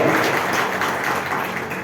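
Audience applause at a Ganesh festival prize-giving ceremony in Bhokardan, a dense steady wash of many hands clapping close by, holding at an even level throughout with no voices.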